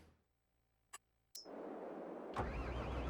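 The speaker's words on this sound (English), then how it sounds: "Engine start." A farm vehicle's engine cranks with a brief click, then catches at about 1.3 seconds and settles into a steady, loud idle that grows heavier and rougher near the end; no talking.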